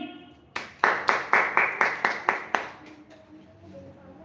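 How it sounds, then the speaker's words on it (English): An audience applauds on stage for a speaker at a public speaking program: eight or nine sharp, evenly spaced claps in quick rhythm, loud and close, then fading into room murmur. "A big clap for him."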